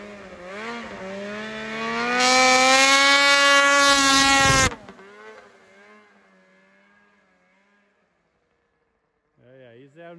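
Very loud snowmobile engine revving hard, pitch climbing and sustaining at full throttle before cutting off abruptly and dying away, then a brief restart near the end.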